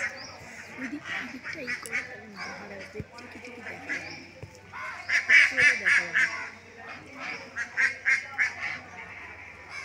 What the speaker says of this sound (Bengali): এই যে রাজহাঁসের ঘর, ও কতগুলো রাজহাঁস।